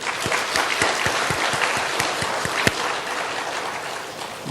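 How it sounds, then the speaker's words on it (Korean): Church congregation of middle and high school students clapping during a Sunday worship service, steady applause with distinct sharp claps throughout, moderately close in a hall. "우리 중고등학생들 우리 박수 한번 하도록 하겠습니다"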